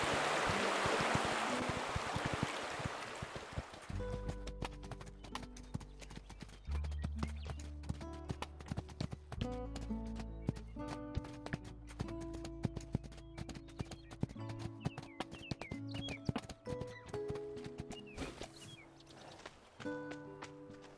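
Spirit the horse galloping in the Spirit Lucky's Big Adventure video game, a steady clip-clop of hooves with a faint whinny, set under a continuous musical score after a brief noisy opening.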